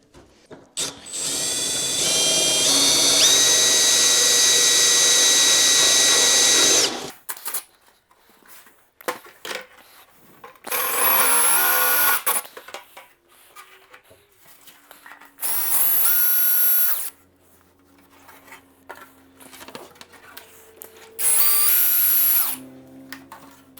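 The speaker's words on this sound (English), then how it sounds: "we're gonna have to use a drill bit to make them slightly larger" A power drill enlarging holes in a carbon fiber fender whirs in a long, loud burst, then runs in three shorter bursts separated by quieter handling noises and pauses.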